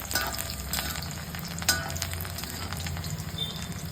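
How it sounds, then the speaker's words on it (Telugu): Garlic sizzling in hot oil for a tempering, a steady close crackle with scattered pops and a sharper spit partway through, no speech. "ముందుగా తాలింపు వేసుకుంటున్నానండి ముందుగా వెల్లుల్లిపాయలు వేసుకున్నానండి అవి కొద్దిగా వేగాలండి"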